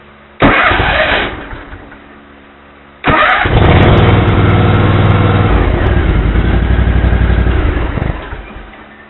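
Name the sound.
car engine starting with A10 Foxpeed jump starter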